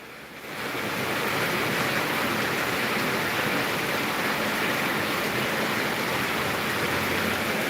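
Heavy rain pours down in a steady, dense hiss that swells in during the first second and then holds constant, with no voices.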